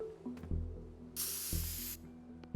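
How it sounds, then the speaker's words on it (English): Spray can in the video game Teardown hisses in a single sustained burst of about a second, set against low droning game ambience with a few soft clicks before and after. "That's a spray can."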